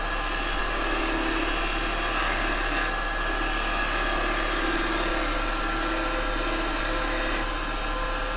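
A wood lathe gouge cuts into spinning yew, giving a steady, loud, continuous rough shaving and scraping noise with a constant motor-like drone underneath, unbroken throughout with no speech.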